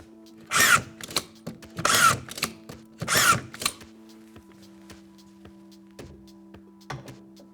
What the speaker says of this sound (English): the Festool DURADRIVE is a drywall screwdriver with a difference and packed full of innovation